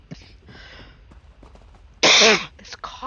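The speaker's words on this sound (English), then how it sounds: "This cough is just horrible." A person gives one loud, harsh cough up close after quieter breathing and small throat noises, followed by a couple of fainter coughing sounds.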